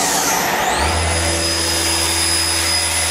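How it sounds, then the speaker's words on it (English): The main spindle of a KSI SQC20 CNC Swiss lathe spins up with a rising whine that settles into a steady high tone over constant broadband machine noise, close and continuous. "This is the main spindle moving."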